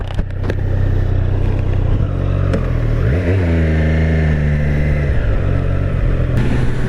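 A Triumph Street Triple RS 765 Moto 2 Limited Edition motorcycle from 2024 rides past with its engine revving loudly, pitch climbing and dropping through gear changes, close and continuous with no voices.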